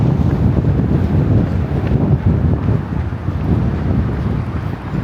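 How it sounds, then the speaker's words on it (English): Wind gusting along a suburban street in Henderson near Las Vegas, a continuous loud low rumble and buffeting against the microphone, with no talking. "Beautiful day out here. A little bit windy."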